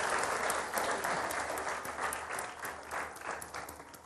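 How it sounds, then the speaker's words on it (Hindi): A studio audience on a television iftar show gives a dense, sustained round of applause, many hands clapping together at moderate volume with no voices over it. "रानी आपा के लिए बहुत सारी तालियां"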